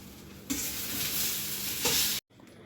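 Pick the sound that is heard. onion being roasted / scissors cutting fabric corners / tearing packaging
onion being roasted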